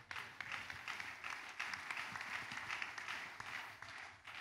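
Church congregation applauding during a service, continuous clapping from many people heard faint and distant, holding steady for several seconds.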